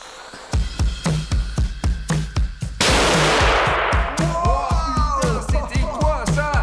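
A firecracker goes off close by, set beside lit candles and a painted surface: a rapid string of sharp, loud cracks, then a sustained blast of hiss and crackle, with further pops and whistling, squealing bursts trailing off.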